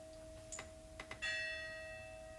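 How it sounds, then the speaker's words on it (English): Church bells strike a few times, faint and distant, then one sustained ringing tone lingers and slowly decays under a steady electrical hum. "Church bells."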